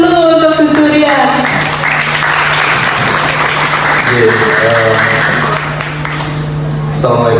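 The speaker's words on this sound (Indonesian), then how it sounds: "Tepuk tangan dulu untuk Gus Durian." Loud audience applause at a university sociology film discussion event, dense continuous clapping throughout, with a sustained tone and voices or music-like harmonics layered over it.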